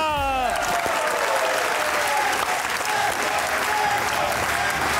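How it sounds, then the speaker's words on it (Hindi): Loud, continuous applause from a studio audience greeting a stand-up comedian on a comedy show, steady dense clapping throughout with a brief musical sting at the start. "आपकी भरपूर तालियों में उस्मान बजा।"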